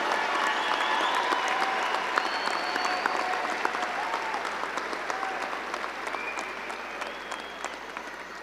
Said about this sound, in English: Please give a round of applause to the class of 2024 scholarship winners.